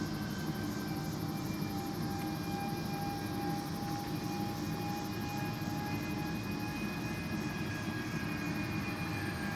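Radio-controlled model Airbus A330-600 jet airliner in flight outdoors, giving a steady, continuous jet whine and rushing roar with faint high tones, at a constant moderate level with no talking.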